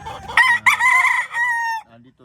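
A rooster crows loudly and close, one drawn-out cock-a-doodle-doo with a rising start and a long held tail, followed by a few soft clucks; the birds are gamefowl kept in a farmyard.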